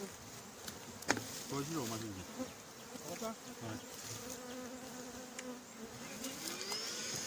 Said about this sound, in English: the vacuum is on and the bees are getting sucked